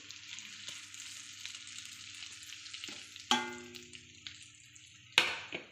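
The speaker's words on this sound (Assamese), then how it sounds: "ডিমকেইটা ভাজি হোৱালৈ" Eggs frying in a pan for an egg curry, a soft steady sizzle in the background, then two sharp clattering knocks of a utensil against the pan, each followed by a brief louder crackle.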